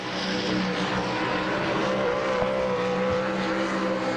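A sprint car at Sharon Speedway in Hartford, Ohio, laps the track during All Star Circuit of Champions qualifying, its engine a loud, continuous high-pitched roar that holds steady with slight pitch shifts as it passes.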